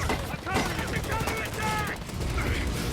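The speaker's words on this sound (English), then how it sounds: "Open fire. Nice. Tommy guns. Grease guns." Tommy gun and grease gun bursts in a Fallout video game battle, rapid overlapping gunfire crackling throughout, with radio-style voices talking over the shooting.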